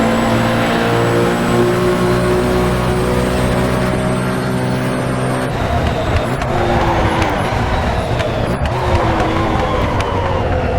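A Porsche race car engine in the sim racing game Assetto Corsa, a loud, steady droning roar with sustained harmonic tones that shift pitch midway as the car slows and accelerates, joined by rougher rumbling.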